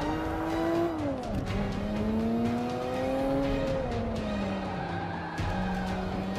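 A race car in the Forza 5 video game braking hard, engine pitch sweeping down and back up with tire squeal, loud and continuous with no talk.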